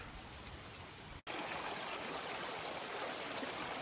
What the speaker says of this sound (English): You can see how the creek comes down